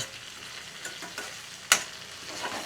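A tomato cooking out in a pan for a restaurant-style Rogan Gosht curry gives a steady, soft sizzle. A few light stirring scrapes come through, and one sharper clatter stands out near the end.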